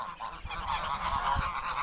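Geese on a farm honk in a continuous nasal chorus of overlapping calls, moderately near and fairly steady throughout.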